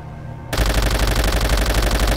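A warplane's guns open up in Call of Duty: World at War after a quiet moment, a loud, rapid, continuous stream of machine-gun fire close by.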